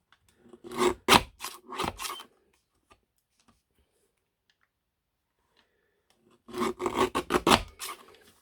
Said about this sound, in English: So I'm just trimming the white off.